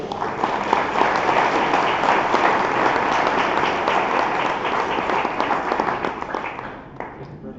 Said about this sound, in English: let's give a round of applause to Leo